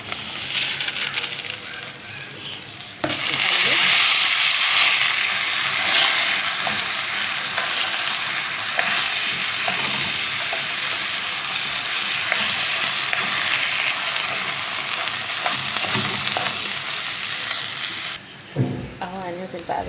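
Rice sizzles loudly in hot oil while being stirred, a dense continuous frying hiss with scraping stir sounds, and someone talks over it.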